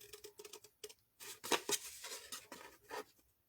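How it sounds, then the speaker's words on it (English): Scissors snipping along the fold of folded paper at a craft table, a run of short crisp cuts and rustles of varying loudness, close up with no talking. "let's grab our scissors and carefully cut along the fold"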